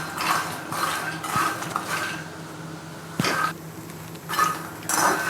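Makhana (fox nuts) roast in ghee in a pan for makhana chiwda. Bursts of metallic scraping and clinking from stirring come in uneven rhythm over a soft, steady background hiss.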